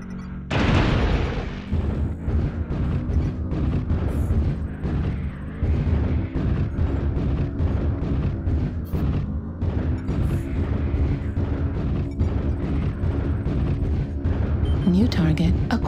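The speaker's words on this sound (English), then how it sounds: "New target acquired. Artillery strike activated." Artillery strike explosions in a video game, a sustained, loud wash of booming blasts and rumbling impacts lasting several seconds, mixed with game noise and a voice speaking over it.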